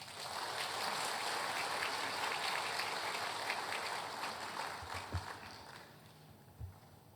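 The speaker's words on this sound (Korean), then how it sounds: "박수로 환영하겠습니다." Faint congregational applause welcomes a speaker at a Korean church service, a soft, distant patter of many hands that holds steadily and slowly thins out, with a few dull knocks near the end.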